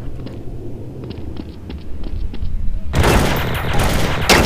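Machine pistol gunfire in Counter-Strike: Source, with faint distant shots at first and then a sudden loud, dense burst of rapid fire that continues to the end.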